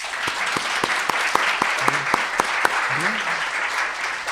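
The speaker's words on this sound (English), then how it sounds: "So let's all give all of our award winners 1 round of applause." An audience at a university sustainability awards ceremony applauds the award winners, a steady round of clapping with some sharper individual claps standing out and brief voices underneath.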